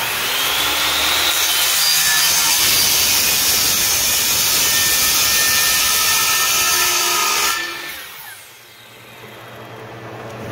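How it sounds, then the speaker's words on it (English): A chop saw cuts through 3-inch PVC pipe in a loud, steady grinding rasp lasting about seven seconds, then the blade winds down and fades, with no one speaking. "And I'm just going to do it with my chop saw."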